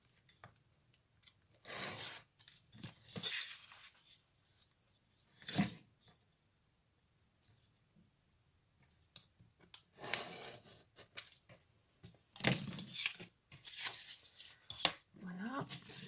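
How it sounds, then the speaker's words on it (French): Scissors cut through paper in scattered rustling, crisp snips and bursts, close and quiet, separated by near-silent pauses, with a person speaking occasionally. "Je vais découper en laissant 1 cm tout autour."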